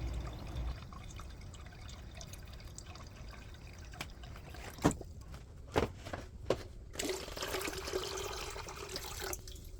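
Cool water trickling and splashing into a vessel while home-brewing hard cider, a quiet steady flow with a few louder splashes and drips partway through.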